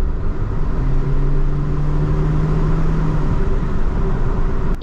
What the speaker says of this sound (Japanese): 直四の迫力ある低音が中回転域で響く